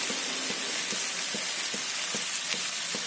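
Spices tipped into a hot frying pan while cooking chuda matar poha, giving a steady close sizzle with faint soft clicks and stirring ticks repeating about twice a second throughout.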